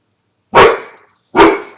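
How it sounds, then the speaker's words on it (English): A dog in the Minecraft video game, played with the ATM10 modpack, gives two sharp, loud barks, clearly separated and close, with silence around them. "And there goes the dog."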